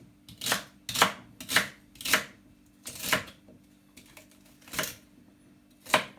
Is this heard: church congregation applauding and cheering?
no